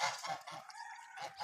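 Geese honk near a pond in a short run of several nasal honks, moderately close, with no talk.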